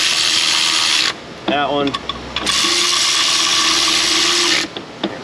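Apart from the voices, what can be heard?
running down camshaft bolts with a ratchet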